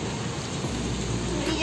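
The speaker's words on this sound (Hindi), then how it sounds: "आज झमाझम डेढ़ दो घंटे की बारिश पड़ी है" Heavy monsoon downpour pounding steadily and evenly throughout, a dense continuous wash of rain close by with no pauses.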